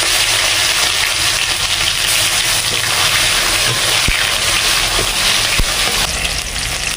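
Chopped tomatoes sizzle and spit in hot oil left from frying paneer, seasoned with cumin seeds and bay leaf; a steady, dense, close hiss runs throughout with a few faint clinks, and nobody speaks.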